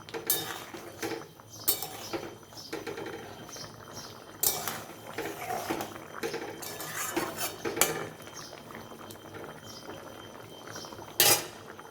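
Curry gravy for dhokar dalna bubbles in a pot, the soft boil partly masked by frequent metal utensil clinks and scrapes at close range.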